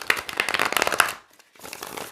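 Tarot cards are shuffled by hand up close, a dense flurry of riffling and slapping that pauses briefly before resuming more softly.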